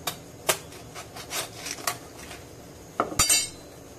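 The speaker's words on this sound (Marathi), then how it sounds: "हा कोयता असा धरायचा, कोयता काठी काय असेल ते, आणि याच्याने असे कट करायचं" Curved koyta blade cutting through a crab shell, giving a few sharp, close clinks and scraping cracks spaced across a quiet stretch, with a louder cluster near the end.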